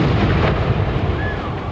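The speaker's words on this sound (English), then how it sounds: "Exactly how powerful and large indeed that explosion was." Bomb blast at the 1996 Atlanta Olympics as heard in news footage: a loud, dense low rumble filling the whole moment, with no clear onset, sustained and booming.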